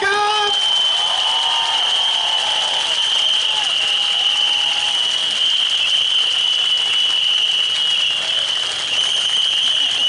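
A crowd at an outdoor political rally applauds to welcome a band onto the stage. Continuous clapping is joined by a sustained high whistling tone that runs the whole way through.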